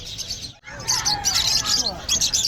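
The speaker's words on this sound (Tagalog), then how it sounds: "Tignan natin yung mga ibon ng ating mga tropa" Many birds at a pet market chirp and tweet together in a busy, continuous chorus, close by, with a voice talking faintly underneath.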